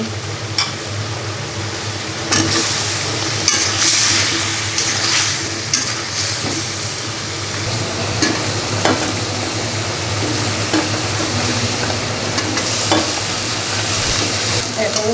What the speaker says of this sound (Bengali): ফুলকপিগুলো এখন আলুগুলো মশলার মধ্যে দিয়ে দিচ্ছি